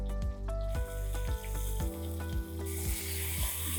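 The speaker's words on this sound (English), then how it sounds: "we're just gonna move it around to each one of the sides to sear in the juices" Meat sears in a pan, a steady loud sizzle broken by repeated dull thumps and scrapes as pieces are turned from side to side, with no talking.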